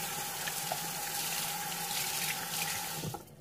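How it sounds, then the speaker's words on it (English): Tap water running into a sink while hands are washed, a steady soft hiss and splash, fairly quiet and close, cutting off at the end. "Wash my hand."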